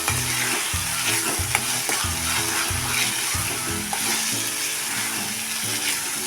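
Masala spices with chili powder, garam masala and salt sizzle in oil in a pan as they are sautéed, a steady dense frying hiss with repeated stirring scrapes and low clatters throughout, no voices.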